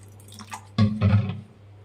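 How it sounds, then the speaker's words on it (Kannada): A short splash of water pours into bonda batter made for potato aloo bonda. Two quick, close bursts rise over a low steady hum, then fade. "ಇನ್ನೊಂದು ಸ್ವಲ್ಪ ನೀರು ಹಾಕ್ಕೊಬೇಕು"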